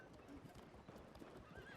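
Rapid hoof clip-clops of nomad light horse cavalry patter under a busy wash of Field of Glory Digital game noise, with faint horse whinnies mixed in; the level is very quiet overall.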